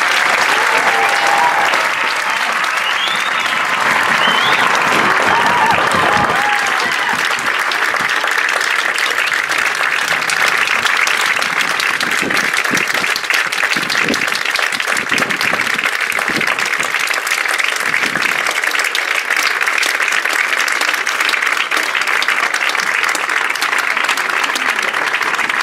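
A large audience at a 2015 parade of bands applauds the graduating band seniors, producing a long, dense wall of clapping with faint cheers and voices mixed in early, continuing steadily throughout.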